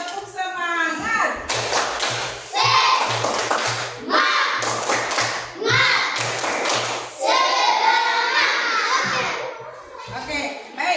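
A school class claps a rhythmic spirit cheer in bursts of quick, loud hand claps mixed with children's chanting voices and a teacher speaking.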